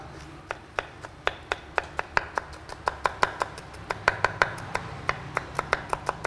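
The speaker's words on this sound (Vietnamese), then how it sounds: "và chúng ta băm nhuyễn." A knife minces horn chili peppers on a cutting board in a steady run of crisp, evenly spaced chops that continue throughout at close range.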